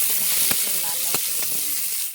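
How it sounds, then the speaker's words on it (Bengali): Onions frying in a pan with nigella seeds, a continuous bright sizzle with a few sharp crackles and pops, heard close and alone without speech. "লাল লাল করে ভেজে নেব"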